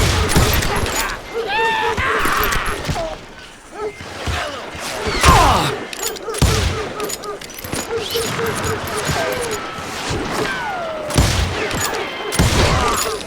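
Gunfire bursts in the Western shooter game Call of Juarez Gunslinger, loud sharp volleys in irregular clusters mixed with thuds, while voices shout between shots.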